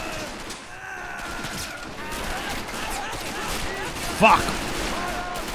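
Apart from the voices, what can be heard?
MG42 machine gun fire in a WWII video game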